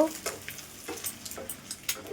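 Food frying in hot oil in a kadai, a faint, soft sizzle with a few light scrapes and taps, steady and close but quiet throughout.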